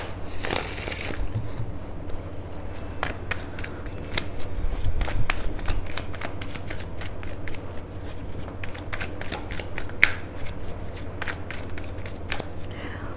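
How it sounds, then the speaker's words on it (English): Tarot cards riffle and slap in repeated shuffling bursts, close and crisp over a low steady hum, with a brief pause partway through and a sharp tap near the end. "One more shuffle."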